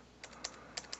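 Computer keyboard typing a company name, a few quiet separate key clicks over about a second in a hushed room.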